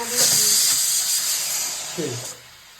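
Vegetables frying in a pan for bisi bele bath, with tomato, onion, potato, peas and peanuts among them. A steady hiss and sizzle runs throughout, along with brief voices and a clink near the end.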